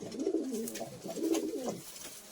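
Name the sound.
Madras pigeons cooing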